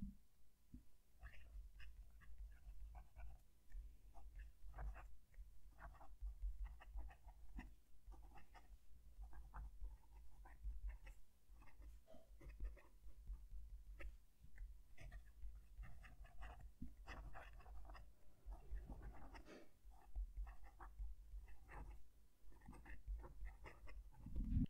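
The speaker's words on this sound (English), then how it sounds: "I'm going to move the mic down to the page and write a sentence." A Conklin Duragraph fountain pen with a very wet ink combination scratches across paper close to the mic, producing quiet, irregular strokes and taps over a low steady hum.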